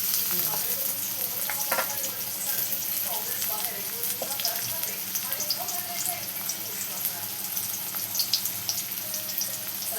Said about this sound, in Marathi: कांदा टमाटो परतून घेतलेला आहे